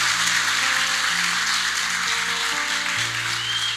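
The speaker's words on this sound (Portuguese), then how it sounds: "Vamos aplaudir nosso Deus, que Ele é bom" A church congregation applauding during a sermon: continuous, dense clapping at a loud, steady level, with sustained musical tones beneath.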